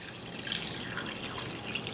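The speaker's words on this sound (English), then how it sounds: "I cover it with a quart of water" A quart of water is poured into a glass pot, giving a continuous soft splashing and trickling, fairly close and moderately quiet.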